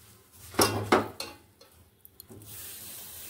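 A spoon stirs semolina with milk in a bowl, giving a few sharp clinks and scrapes against the bowl, close and clear, followed by a soft wet swish.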